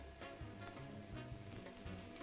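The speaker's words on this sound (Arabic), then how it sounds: "منضيف البصل بعد الثوم كمان لأنه البصل لازم يستوي وبده وقت" White onion added to oil after garlic for vegetable noodles, sizzling and frying with a steady crackle and soft repeated stirring scrapes, close and continuous.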